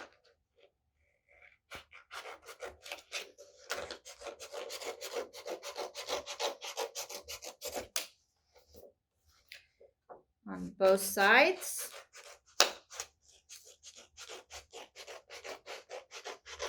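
Small scissors cut paper along printed lines, a soft rasping snip repeating in quick close bursts, with someone speaking briefly over it.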